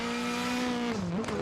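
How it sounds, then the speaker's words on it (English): A Mitsubishi R5 rally car on a rally stage holds a high, singing engine note at high RPM. The note dips briefly, then climbs back up, loud and sustained over faint background noise, with no talk. "Listen to the engine note of this Mitsubishi though. It's much higher engine note compared to the other R5 car."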